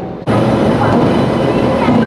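Loud rumbling of a train at a railway station on the Hyderabad to Delhi route, starting abruptly after a brief quiet moment and continuing steadily close by.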